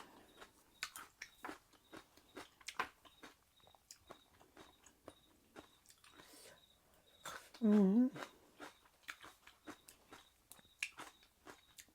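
Someone chews crunchy blanched vegetables soaked in salt water with a very spicy salmon Mama instant noodle salad, soft repeated crunching bites close to the mic, with a short burst of voice partway through.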